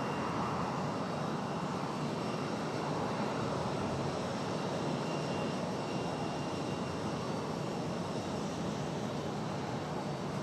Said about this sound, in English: Next arrival we've got Endeavour 5109 coming in from LaGuardia.